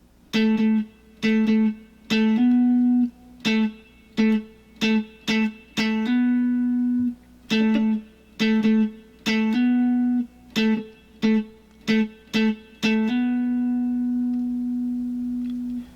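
Funky R&B guitar picking of a song's chords: crisp, syncopated bursts of short picked notes repeating in a steady groove, ending on a longer ringing chord, played alone without talk.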